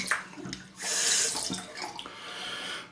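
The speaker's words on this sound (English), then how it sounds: "I'll turn the tap right down to cold now" Cold water gushes steadily from a bathroom tap, a bright, hissing splash that swells after a short pause and keeps running close by.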